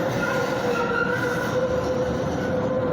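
Steel wheels of a SEPTA trolley squeal while it makes a left turn at 13th Street Station, a sustained close, loud tonal screech over a constant rolling rumble.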